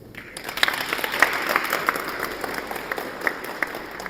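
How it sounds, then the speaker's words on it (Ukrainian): A crowd claps steadily in sustained applause at a potato storage seminar, loud and continuous throughout. "Давайте зробимо бурними аплодисментами і подякуємо їм за їхню роботу."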